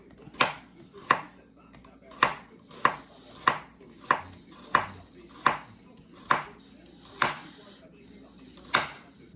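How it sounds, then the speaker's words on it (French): A knife cuts an onion into thin strips on a board, about a dozen crisp, evenly spaced chops with a woody knock on each stroke, close and clear with no talking. "Pour ce faire, je vais couper l'oignon en deux."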